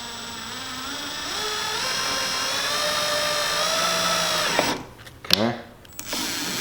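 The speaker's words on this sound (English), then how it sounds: "So I'm just going to drill a little hole." Power drill boring a small hole in plastic while installing a backup light kit on a Polaris Ranger, a steady whine rising in pitch over several seconds, then stopping with brief clatter.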